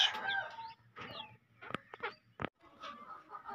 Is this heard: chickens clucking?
yes